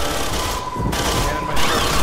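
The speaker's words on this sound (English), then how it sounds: "Regular machine gun." Rapid machine gun fire in the video game Aliens: Colonial Marines, loud sustained bursts with brief gaps, with game noise layered over it.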